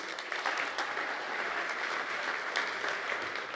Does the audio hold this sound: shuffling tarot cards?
no